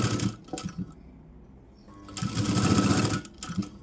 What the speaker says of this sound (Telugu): ఈ విధంగా 1/2 ఇంచు మార్జిన్తో స్టిచ్ వేసేయాలి